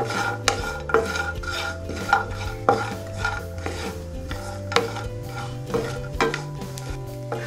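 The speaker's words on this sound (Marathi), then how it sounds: "आता आपण खोबरं भाजून घेऊया। थोडंसं तेल घालून घेऊया।" Grated coconut roasting in a little oil in a pan, with a steady scraping and stirring of a spatula against the metal, repeated clinks and rasps over a faint sizzle, close and clear with no talk.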